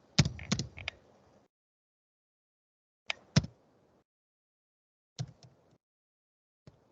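Keys clack on a computer keyboard in a few short clusters of quick taps separated by silent pauses, close and fairly faint, with no other sound in between.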